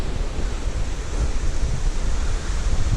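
Waterfall at McConnells Mill State Park, heard as a steady, loud, dense roar of rushing water with some wind buffeting on the microphone.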